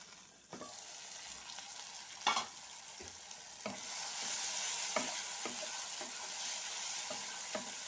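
Fish curry with tomatoes, squash and potato is stirred in a hot pan: a steady sizzle with intermittent spoon scrapes and knocks, close and fairly quiet.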